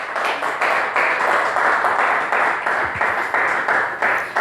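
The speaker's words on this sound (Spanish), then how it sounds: "Un aplauso para Edgardo." Audience applause for Pastor Edgardo at a historical talk gathering, a steady, dense wash of clapping running evenly throughout, moderately loud and without pause.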